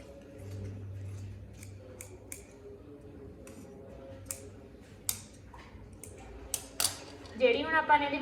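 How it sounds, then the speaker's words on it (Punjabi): Scissors snip through shirt fabric in a series of short, sharp cuts with pauses between them, close and fairly quiet, ending in a brief rustle of cloth. "ਹੁਣ ਆਪਾਂ ਇੱਥੋਂ ਕਟਿੰਗ ਕਰ ਦਾਂਗੇ"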